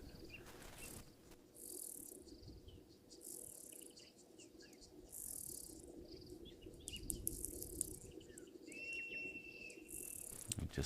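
Bird calls ring out outdoors in short, high, repeated bursts over a steady bed of insect trilling, with a thin whistled note near the end; no one speaks.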